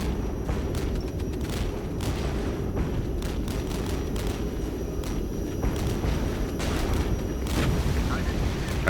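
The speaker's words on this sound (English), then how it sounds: "Let's get the napalm over here." Napalm strike explosions in the war game Regiments, heard as a run of repeated sharp booms and blasts over a constant rumbling battlefield roar.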